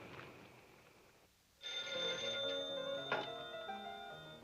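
An old telephone rings on the line during a call in a 1952 film, a quiet hum giving way to a sudden bright ringing tone that carries on steadily, with no talk.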